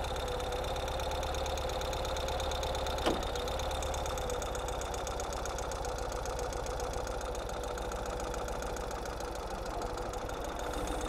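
A 2022 Ural motorcycle engine idles in neutral with a steady, even ticking chug held the whole time and one sharp click partway through.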